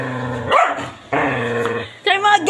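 A dog growls and barks in short bursts while confronting a cucumber, loud and close, with some background voices.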